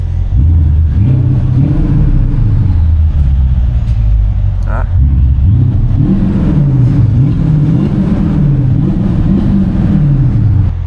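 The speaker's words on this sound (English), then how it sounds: "We're parked up, and then we're just gonna give it some gas." A parked car in sport mode with its exhaust clamp disconnected, engine revved repeatedly, giving a loud, steady low rumble that swells and drops in waves throughout.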